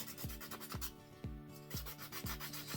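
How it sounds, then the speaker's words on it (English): Hand sanding scrapes rhythmically across a wooden bunny decoration, roughly one rasping stroke every half second, close and fairly soft with no voices. "I can feel it feels a little bit rough when I sand the bunny"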